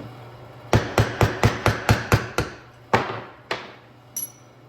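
Tapping to drive a resized cartridge case out of a Lee Classic reloading press, a quick run of about ten sharp evenly spaced hammer taps, then three slower, lighter ones, close and alone.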